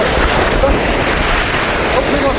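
Strong wind blasts across the coast at Keerimalai during a storm warning, roaring loud and steady with broadband rush and buffeting, mixed with crashing surf.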